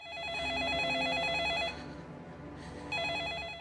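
A telephone rings with a warbling electronic trill, pauses for about a second, then starts ringing again, clear and fairly close.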